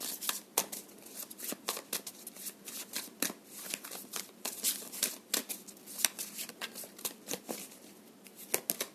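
A deck of tarot cards is shuffled close by in quick, irregular riffles and soft flicks, quiet and crisp, with no talking.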